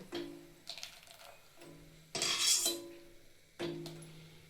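Fried almonds are moved into a bowl, and metal utensils clink against the dish in a few separate bursts. One scraping clatter in the middle is louder than the rest, and the sounds are close with nobody talking.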